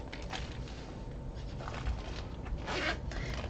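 A zipper pulled along a pocket on top of a wallet held shut with magnetic snaps gives a steady close scraping rasp for several seconds, with a few soft rustles.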